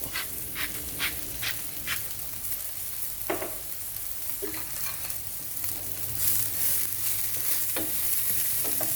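Eggplant pieces frying with a little salt in a pan for a potato curry, a steady close sizzle with repeated scraping stirs of a spoon, no talking.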